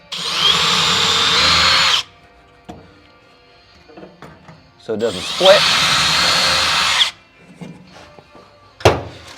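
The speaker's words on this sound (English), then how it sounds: "I got an 1/8 inch drill bit and a pre-drill the wood." A power drill with a 1/8 inch bit whirs loudly while pre-drilling wood in two sustained bursts, with a short spoken remark and small handling knocks in between.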